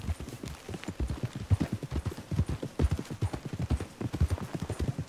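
Rapid, rhythmic hoofbeats of a galloping horse in the video game Red Dead Redemption 2, close and steady throughout, with no talking over them.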